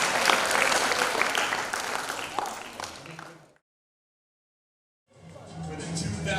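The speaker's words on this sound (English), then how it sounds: "Big round of applause for Sock Shack." A school Shark Tank event audience gives a big round of applause, dense clapping that fades out into a few seconds of silence before a second burst of clapping and crowd noise starts up.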